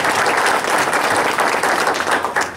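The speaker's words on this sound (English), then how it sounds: "So I would like to give Barbara Norton a round of applause here first." Dense applause from a press conference audience honoring Barbara Norton, loud and steady throughout, with a brief swell and fade near the end and no speech over it.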